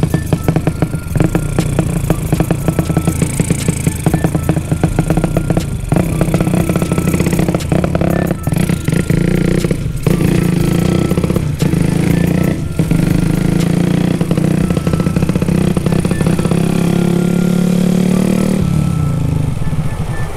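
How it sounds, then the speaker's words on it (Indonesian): A small motorcycle with an exhaust modified to sound like a helicopter revs loudly and continuously, a gruff, chopping engine roar with rattling clatter that rises and falls close by, with no talking. "Dengan motor kecil, dengan suara yang gahar ini."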